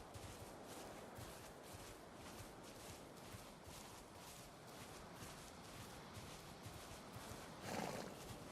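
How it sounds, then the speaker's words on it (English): Horse in the video game Valheim, standing in an open outdoor area, with hooves shuffling and a brief whinny under steady wind and game ambience; one louder burst near the end. "You doing okay, horsey? Staying here by yourself?"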